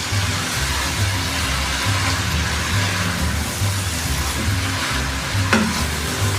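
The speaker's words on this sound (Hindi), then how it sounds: "अच्छे से इसको मिक्स करते हैं।" Potatoes and bitter gourd being stirred in a pan with fries and lemon juice: a steady frying sizzle under rhythmic scraping and stirring strokes, with one brief clink near the end and no talking.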